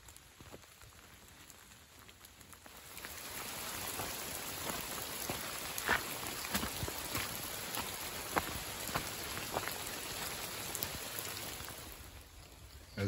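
Rain falls in woodland, starting as a soft patter and swelling after a few seconds into a dense, steady hiss of drops on leaves, easing slightly near the end.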